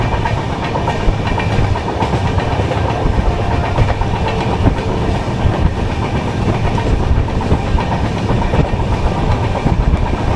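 Netravathi Express passenger train (16346) rolling along the rails, a steady loud rumble with faint clickety-clack of wheels over track joints throughout, heard from on board with no talking.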